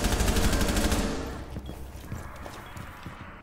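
Rapid bursts of video game gunfire open loud and dense, a clattering volley that tapers off after about a second into scattered fainter shots and rumble, with no speech.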